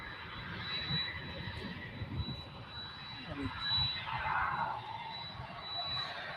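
A jet airliner, flight 70 bound for Frankfurt, prepares for takeoff at DFW Airport, its engines giving a steady broadband roar that swells toward the middle of the clip, with faint talk underneath.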